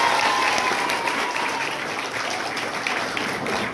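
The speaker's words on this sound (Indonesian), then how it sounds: "tepuk tangan." Steady applause from an audience at an Islamic religious gathering, honouring Al-Habib Ali bin Muhammad bin Hussein Al-Habsyi, a dense even clatter of many hands that holds at full strength throughout.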